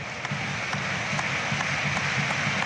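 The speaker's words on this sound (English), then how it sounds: "Orchestrated clapping." Home football fans in a stadium at a Slovenia versus Northern Ireland Euro 2024 qualifier clap in a steady orchestrated rhythm, the beat repeating evenly under a continuous broad crowd roar heard from a distance.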